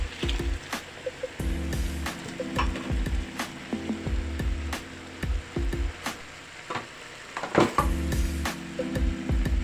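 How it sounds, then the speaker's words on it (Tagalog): Shrimp drop into a simmering pot of sinigang soup with splashes and soft clinks, bubbling liquid continuing underneath in irregular bursts. "Dahil nga kumukulo na, ihuhulog na ang hipon."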